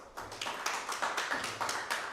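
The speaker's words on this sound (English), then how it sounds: "Round of applause for Miss Phyllis." Brief, modest applause for someone speaker at a manufacturers' employability programme launch event, a smattering of hand claps with a rhythmic, tapping quality, fairly quiet and without talk.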